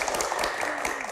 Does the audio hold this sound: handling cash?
no